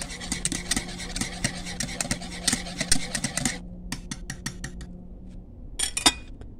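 Spoon stirring a hot dessert mixture in a pot off the heat, heard as quick close metallic scraping and clinking over a low hum, then thinning to sparse taps before a final burst of clatter.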